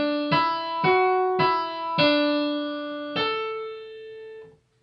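A piano plays the first phrase of a grade 1 canon: five distinct notes struck slowly one after another, each ringing out and decaying, clear and alone.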